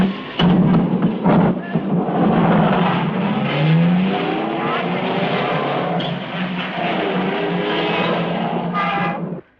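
A taxi drives along with its engine droning and rising in pitch as it accelerates, close and loud and steady throughout, with a few sharp knocks near the start and a brief tonal squeal before the sound cuts off.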